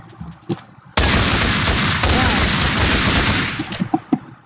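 A dense burst of gunfire in a modded Minecraft shootout, loud rapid shots packed into about three seconds, with quieter scattered pops before and after.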